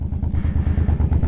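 A Suzuki M50 motorcycle engine rumbles close by in a steady, even, low throbbing pulse with no pauses.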